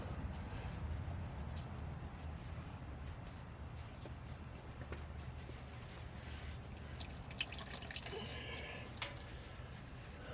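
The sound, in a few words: fluid draining out through the drain plug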